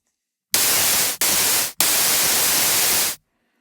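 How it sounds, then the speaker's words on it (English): White noise oscillator on a discoDSP Corona 6 synthesizer, a loud flat hiss switched on in three bursts with brief cutoffs between, ending abruptly into silence. "And of course, you have noise as well."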